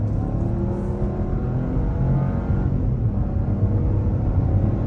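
Engine of a 2024 Buick Envista Avenir pulling through the mid-range, a close, steady drone with rising harmonic tones under faint road rumble, building gradually without pause.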